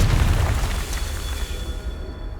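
The Confringo fire spell exploding in Hogwarts Legacy: one deep, rumbling boom that hits hard at the start and then fades and crackles away over a couple of seconds, with no voices.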